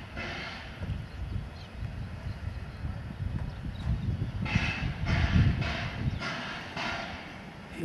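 A steam train rumbles, with a run of rhythmic chuffing puffs in the second half over a low, continuous mechanical drone.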